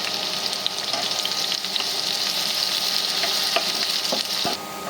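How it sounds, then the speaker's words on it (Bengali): Onions fry in hot oil with a loud, steady sizzle, broken by a few sharp spatula scrapes and taps near the end. "আমি পেঁয়াজগুলো একটু কড়া করে ভেজে নেব"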